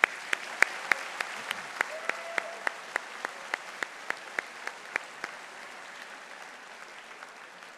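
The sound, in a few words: applause at a college convocation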